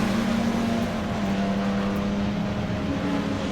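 A 57 Chevy Rapid Transit and La Troca drag racing side by side, a loud, sustained engine roar with a steady droning pitch and a slight drop midway, close and unbroken.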